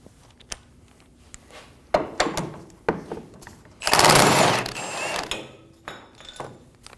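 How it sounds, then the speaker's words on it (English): Metal clicks and ratcheting bursts from loosening the front lower control arm bolt on a 2019-2025 Ram 2500, close and intermittent, with a longer grinding run in the middle and quiet gaps between. "Loosen the front bolt for the control arm."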